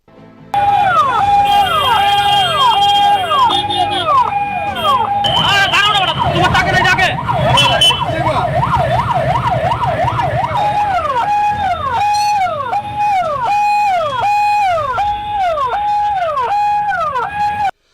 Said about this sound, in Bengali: যানজটের মধ্যে আটকে পড়ে একাধিক অ্যাম্বুলেন্সও